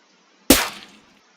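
Layered snare drum samples, a crisp higher snare stacked with a lower one, land as a single loud, full-bodied hit that decays quickly, alone in the mix.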